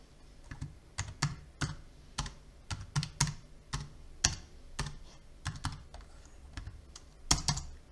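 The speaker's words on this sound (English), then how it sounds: "Now I will type the IP address of my MacBook." Typing on a MacBook keyboard, a close, quiet run of light irregular key clicks with short pauses, alone without talk.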